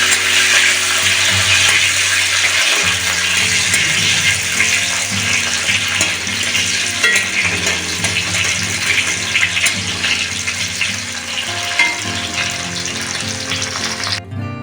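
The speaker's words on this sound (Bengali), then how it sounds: "এবার কিশমিশটা ভেজে নেব।" Raisins sizzle steadily in hot oil for a Bengali-style fried rice, the frying close and loud throughout, with a constant bubbling hiss and some low clatter underneath.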